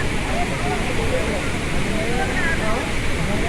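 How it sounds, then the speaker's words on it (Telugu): Water plunging from the spillway gates of Srisailam Dam roars as a steady, loud, dense rush without pause, close by and filling the whole stretch. "ఆ వాటర్ చూడండి ఒకసారి ఎలా జంప్ చేస్తున్నాయి పైనుంచి కిందకి."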